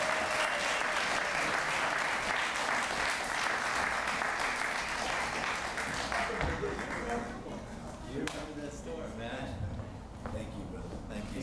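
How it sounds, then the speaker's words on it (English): Sustained audience applause fills a conference hall at a Latino leaders network event, steady and dense clapping that gradually thins toward the end. "Let's give a round of applause."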